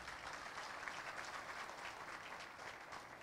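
Steady, dense audience applause at a presentation on the Ahmed Sékou Touré international airport renovation, even and sustained but fairly quiet, as if heard from a distance.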